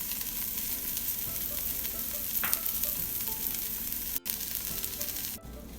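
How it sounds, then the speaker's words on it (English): Brown rice and chopped onion fry in a pan, a steady close sizzle and crackle lasting several seconds with a couple of faint knocks and no talking. "Since the rice is frying right now"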